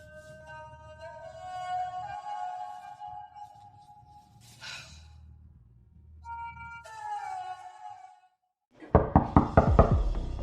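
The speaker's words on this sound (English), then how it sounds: "I've been knocking for ages." Knocking on a door in a drama scene: a quick burst of sharp, loud raps near the end that follows long stretches of tonal music and a brief swish.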